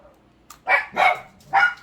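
A dog outdoors barks at squirrels three times in quick succession, fairly close and loud, with a short pause before the last bark and no talking.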